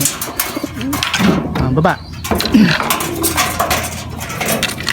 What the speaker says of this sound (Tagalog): Ayan si napakaamo ng ating Dagit na to mga kalapatids.